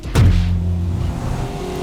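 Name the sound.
loud supercars racing, Lamborghini Aventador SV V12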